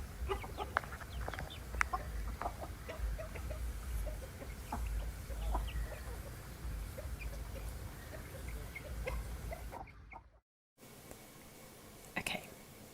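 Roosters perched on a platform in India give soft, scattered clucks in a quiet setting, with faint whispering heard alongside them.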